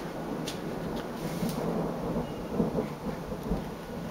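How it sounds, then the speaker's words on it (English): Low rolling thunder rumbles steadily at a distance, with a soft patter of rain and a few light taps overhead. "What is that? It's thunder."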